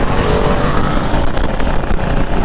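Ducati Panigale motorcycle on a highway, heard from on the bike: a loud, steady engine roar blended with heavy wind rush that fills the whole stretch without a break.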